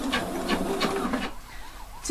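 A sewing machine stitches a French seam about half a centimetre from the edge, a steady mechanical run with rhythmic pulses for over a second before it stops and the room goes quiet.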